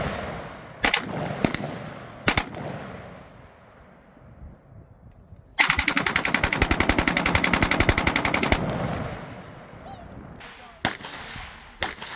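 Full-auto gunfire at an outdoor shooting range: loud, close single shots, then a sustained rapid burst of about three seconds, then a few more isolated shots, with no talk over it.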